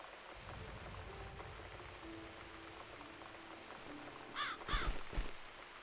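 A crow cawing in The Cat Lady video game: a couple of harsh, loud caws near the end, over a steady patter of rain in the background.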